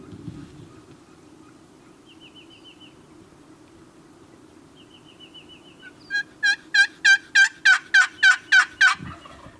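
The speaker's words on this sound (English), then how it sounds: "another bird gobbles in behind him" A wild Rio Grande turkey on a ranch gobbles in a fast series of about ten loud, sharp calls, with fainter calls before it over quiet outdoor background.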